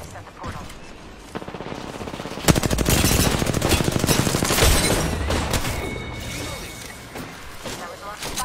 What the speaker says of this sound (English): That was a lot of firing